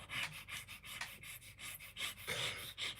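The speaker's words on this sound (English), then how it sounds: "Just stop breathing," Heavy, rhythmic breathing sits right up against the microphone, with quick, panting puffs repeating steadily and no talk.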